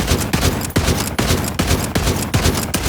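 Rapid automatic gunfire in the video game Borderlands 3, loud close bursts in a steady rhythm with brief breaks, a few words spoken over it.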